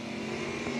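A roadster drag racing car at the Numidia 150 drag race gives a brief, steady, loud engine roar with a broad, gritty mechanical drone.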